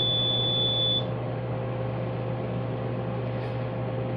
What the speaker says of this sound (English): this is the alarm that'll sound to let you know that the operator know that the process is finished